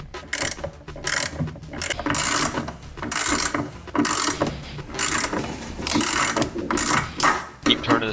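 A washing machine pulley is turned by hand during a bearing repair, giving bursts of ratcheting, clicking mechanical noise in repeated strokes with short pauses, close and fairly loud.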